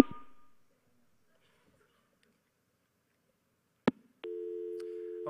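A telephone busy signal sounds during a social engineering phone call demonstration at the HOPE hacker conference, arriving as a sharp click after near silence and then a steady, flat buzzing tone.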